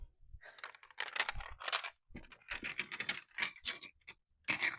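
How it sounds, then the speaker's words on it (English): Small butter pat dishes clinking and rattling together in a busy run of light, sharp clicks and clatters that come in irregular bursts with short pauses. "Does that sound like butter pats to y'all? Because it is."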